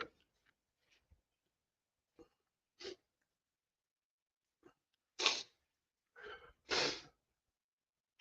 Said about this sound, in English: all that sneezing